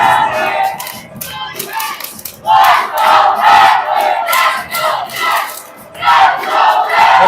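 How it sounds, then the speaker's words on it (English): A raucous hockey crowd in Quebec cheering and chanting in loud, pulsing surges that rise and fall in rhythm, close and dense, with shouts and a few claps. "The crowd's absolutely raucous here"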